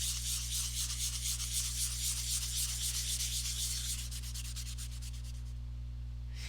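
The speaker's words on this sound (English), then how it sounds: "It's a lot of sanding." Continuous rhythmic sanding of an ohia wood bowl with fine grit, a soft scratchy rubbing repeated in quick strokes over a low steady machine hum, with no talking.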